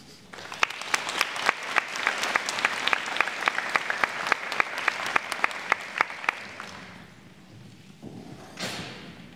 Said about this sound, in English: And why don't we give a round of applause to Mr. Ethan Woodcox.